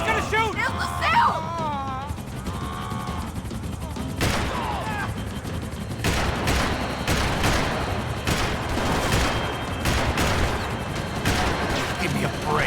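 Gunfire in Max Payne 3, with sharp shots and bursts going off repeatedly over a busy action scene, close and loud, while voices shout over the shooting.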